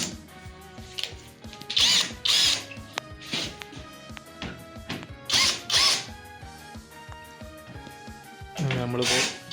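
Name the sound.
power drill driving screws into wood, boat frame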